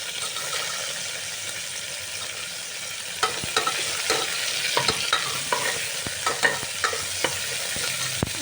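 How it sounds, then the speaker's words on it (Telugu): Onions, curry leaves and tomatoes stirred in a sizzling pan: a continuous frying hiss, then from midway a run of quick spoon scrapes and taps against the pan, close and without speech. "బాగా కలుపుకోండి."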